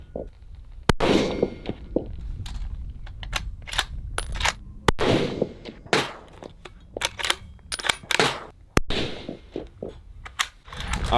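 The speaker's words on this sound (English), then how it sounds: "now we're gonna do a little more positional shooting, specifically the types of positions that you see when you're hunting" Rifle shots during outdoor positional hunting practice in the Colorado backcountry: three sharp, isolated cracks several seconds apart, mixed with nearby clanks, shuffling and handling noises.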